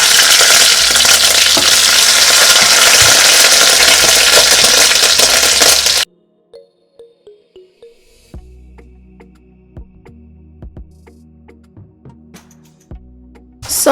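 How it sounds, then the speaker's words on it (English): Beef frying in a pot for a Ugandan-style stew, loud continuous sizzling for several seconds, then abrupt quiet followed by scattered clinks and stirring taps against the pot. "So first I'm going to fry the meat."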